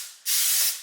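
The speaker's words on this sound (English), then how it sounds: "I'm just gonna spray it with this Pam non-stick spray" Pam non-stick cooking spray hisses onto a pan in one short, close, steady burst of about half a second.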